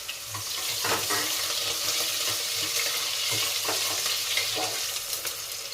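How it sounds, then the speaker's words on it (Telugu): Spices crackle and splutter in hot oil, a busy sizzle punctuated by sharp pops and occasional stirring, close and loud. "పోపు దినుసులు అయితే చిట్టపట్టలాడాయి"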